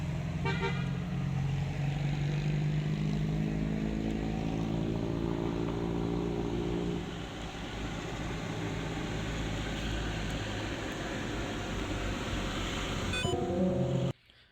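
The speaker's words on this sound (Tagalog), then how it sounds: "lahat ng dumadaan na sasakyan ay bumubusina" Passing vehicles on a Manila street near the Diplomat Hotel sound their horns: a long, loud, steady honk for several seconds over constant traffic rumble, then a brief second honk near the end.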